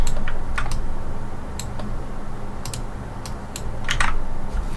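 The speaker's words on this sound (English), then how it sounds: "and then move it with the arrow keys" Computer keyboard arrow keys pressed one after another in quick taps and short bursts, crisp clicks close by over a low background hum.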